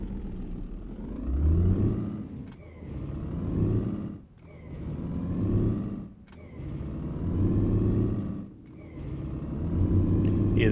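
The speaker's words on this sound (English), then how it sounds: "Hear the truck changing gear there, so the engine sounds are alright" A truck engine in On The Road Truck Simulator on PS5, a low rumbling drone that rises in pitch and then cuts sharply at each of four gear changes, repeating in a regular climb-and-drop pattern.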